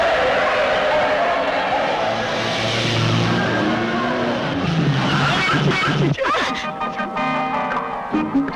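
A car drives up with a steady engine roar, then skids abruptly to a stop with a sharp, harsh burst near the end. Voices and scattered noise follow in the brief quiet afterward.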